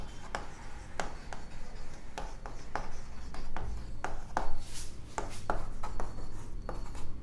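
Pen writing on paper during a maths lesson on quadratic equations, a series of close, soft scratching strokes and taps in an irregular rhythm.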